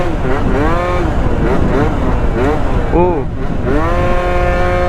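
A Yamaha Zuma scooter with a new variator and clutch revs loudly and close by, rising and falling in several sweeping throttle blips before a steady high whine, with a brief exclamation over it.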